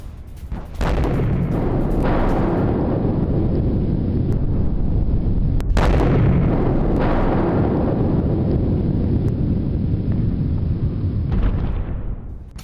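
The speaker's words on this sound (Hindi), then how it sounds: "एक के बाद एक ऐसे कई हमले हो रहे हैं जिससे पूरा इलाका दहल रहा है।" Israeli military strikes in a combat zone, heard as loud, sustained rumbling booms with sharp blast onsets near 0.8, 5.8 and 7 seconds, each followed by a long roar and wind buffeting, with no voices.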